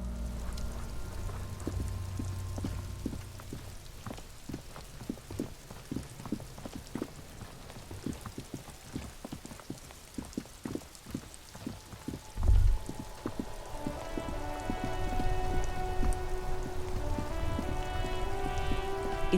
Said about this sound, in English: It's raining. It was clear.